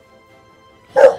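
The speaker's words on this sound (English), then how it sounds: "That's my dog." A dog gives a single loud, close bark near the end, following a stretch of quiet room tone beneath an award acceptance speech.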